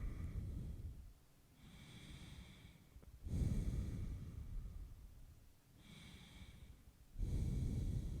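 Slow, quiet breaths during a yoga forward fold: soft airy exhales and inhales alternate in a relaxed rhythm, close and faint, with no talking.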